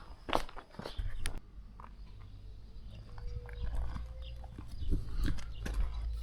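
Cows are brought in on a farm during silage work, their hooves stepping in an uneven run of dull clops over a low rumbling background, with a few sharper knocks and no speech.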